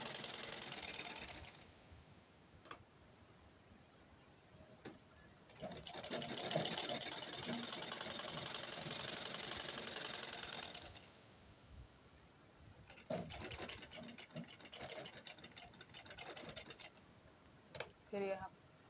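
A sewing machine stitches around the lining of a blouse in three long runs of rapid, even whirring, separated by short pauses with faint handling noises.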